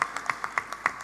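Brief applause at a hospital talent show, a handful of distinct claps in a quick, slightly uneven rhythm, faint and sparse for about a second.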